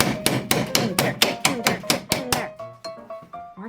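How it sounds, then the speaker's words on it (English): A hammer strikes metal again and again during a rear wheel bearing repair on a 2008 Kia Sportage. Nine or ten loud, evenly spaced ringing blows land close by, then a metallic ring trails off. "This might have to be my go-to hammer now."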